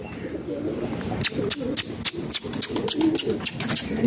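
Pigeons flying overhead during a kabootar bazi session, a run of crisp, evenly spaced wing claps or chirps above a low, rumbling outdoor background with soft cooing, moderately close.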